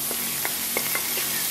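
Lean bacon fries in butter in a pan, a steady close sizzle with a few soft stirring clicks over it and no talk.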